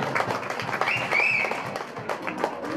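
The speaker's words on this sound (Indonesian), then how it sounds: "kita kasih tepuk tangan dulu untuk para panitia" An audience at a Maulid Nabi gathering in a mosque applauds the organizers with a steady patter of many hands, moderately loud, with a brief whistle-like tone partway through.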